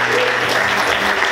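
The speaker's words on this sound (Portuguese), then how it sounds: "Você pode aplaudir Jesus." Church congregation clapping in a brief, dense burst of applause that fills the room, loud and steady with no voice standing out.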